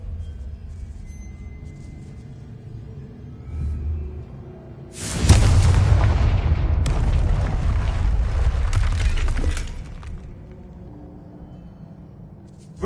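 A Confringo spell in Hogwarts Legacy bursts into a loud, booming explosion after a quiet stretch, roaring and rumbling for several seconds before cutting off into calm ambience.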